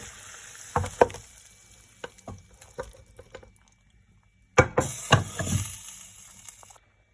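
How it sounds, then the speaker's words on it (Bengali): Chicken poured into a pot of half-cooked pilaf for biryani, a few scattered sizzles and liquid splashes that die into quiet and then a louder burst of sizzling and stirring before it cuts off. "আমি এখন এর মধ্যে চিকেনগুলো ঢেলে দেব"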